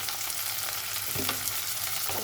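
Onion, tomato and spices frying in a pan give a dense, constant close sizzle, with a brief stir scraping through near the middle.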